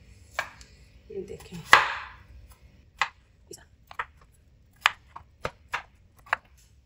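Peeled potatoes are cut with a knife on a board, giving a handful of separate, crisp chopping knocks at an irregular pace. A brief voice speaks near the start.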